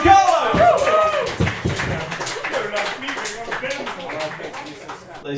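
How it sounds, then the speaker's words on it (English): Open mic audience applauding after a performer, brief clapping that fades under a host's voice speaking over it. "Please give a round of applause for Carlo!"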